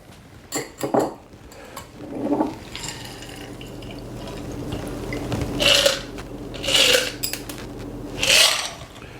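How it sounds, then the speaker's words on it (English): A Scotch cocktail is strained over one big ice cube, with clinking of the strainer and glass, liquid pouring and splashing in short bursts close up, and no talking. "I'm going to strain that over fresh ice. And since it's Scotch, we're just going to have 1 big ice cube."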